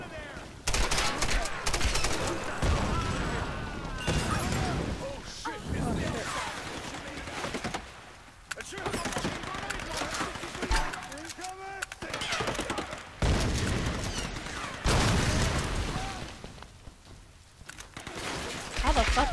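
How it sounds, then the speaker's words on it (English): Repeated booming blasts and gunfire in Tomb Raider (2013), grenade launcher rounds and explosions during a burning palace escape, loud and dense throughout with voices shouting over the action. "Oh no! Grenade launcher!"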